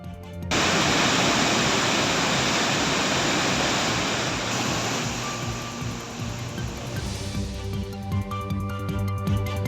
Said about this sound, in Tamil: இதன் காரணமாக மணிமுத்தாறு அருவிக்கு நீர்வரத்து அதிகரித்து வெள்ளப்பெருக்கு ஏற்பட்டது